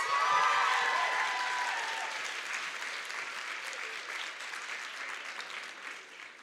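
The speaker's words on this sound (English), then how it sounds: "Can we give them a round of applause?" Audience applause fills a conference plenary hall, loud at first and slowly tapering over several seconds, with a few voices calling out near the start.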